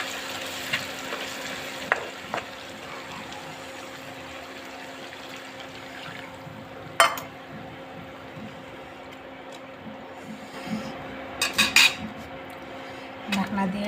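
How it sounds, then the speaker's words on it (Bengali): Beef tripe sizzling and frying in a pot while a metal spoon stirs and scrapes against the sides, with scattered clanks and a burst of clattering near the end as water goes in, close and steady, no talking. "আবারও নাড়াচাড়া করে এর মধ্যে আর একটু পানি দিয়ে দিব।"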